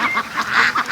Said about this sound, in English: the ducks are out there down in the swamp